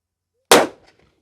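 A single sharp, loud gunshot from a .460 revolver fitted with a reflex sight, with a hard crack that decays quickly into a short outdoor tail, preceded by silence.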